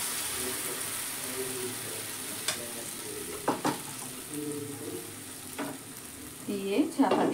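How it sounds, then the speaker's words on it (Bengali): Soybean chilla batter sizzles in an oiled pan, a steady close hiss with occasional clinks and scrapes of a utensil and brief faint voice near the end. "চিল্লার ব্যাটারটা দিয়ে দিলাম"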